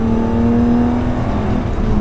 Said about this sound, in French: le bruit à 4500, ça fait un bruit de course